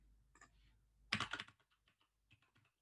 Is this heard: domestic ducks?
no